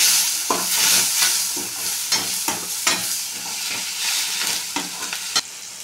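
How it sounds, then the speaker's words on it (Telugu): A spoon stirs chicken masala and chopped coriander through a sizzling pasta sauce in a pan, with repeated scraping strokes in an irregular rhythm over a constant frying hiss, close and clear with no talk. "అలాగే చికెన్ మసాలా ఒకసారి కలుపుకున్నాము"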